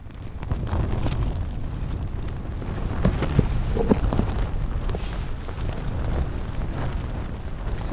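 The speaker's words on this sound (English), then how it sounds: "You'd think it was a proper storm. I think it's just gusty, isn't it?" Gusty wind and rain batter a tent on a Scottish thru-hike trail, a steady rough roar with occasional flaps and knocks of the fabric, loud and close throughout with no talking.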